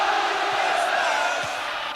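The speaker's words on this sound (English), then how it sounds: "The crowd getting behind Tottenham." Football stadium crowd at a 1990/91 FA Cup quarter-final roaring in support of Tottenham, a dense, sustained wash of cheering and chanting from a distance, no clear individual voices.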